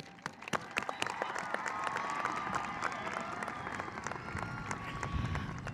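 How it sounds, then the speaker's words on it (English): High school graduation ceremony crowd applauding the class of 2022, a large, reverberant mass of clapping with scattered sharp claps and cheering voices rising over it, sustained throughout. "A big round of applause. Make some noise"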